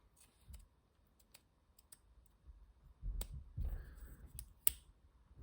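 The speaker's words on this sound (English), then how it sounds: "Nice little pocket clip, and let's click it." Aerocrafted Retract Click Pen mechanism clicked a few times, sharp isolated clicks against a quiet background with some handling rustle.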